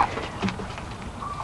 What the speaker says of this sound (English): Bantam chickens